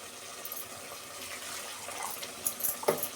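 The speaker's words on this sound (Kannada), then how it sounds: "ಎಷ್ಟು ನೀರು ಬೇಕು ಅಷ್ಟು ನೀರು ಸೇರಿಸ್ಕೊಳ್ಳೋಣ ನಾವೀಗ" Water splashes and gushes into a pan of chicken sambar with fried masala, a short bubbling pour that grows louder toward the end with no talking.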